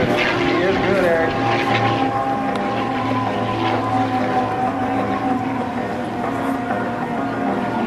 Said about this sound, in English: This airplane is an extra 300. It's a German-built airplane with a 360-degree-per-second roll rate.